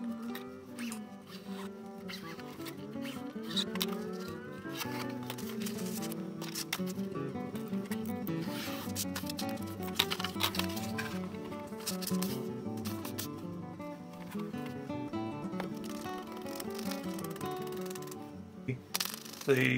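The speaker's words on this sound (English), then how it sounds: "I'll just cut a piece of book cloth to roughly what I want" Scissors cutting through a piece of book cloth for bookbinding, a run of close, crisp snips and rasping strokes repeating steadily over background music.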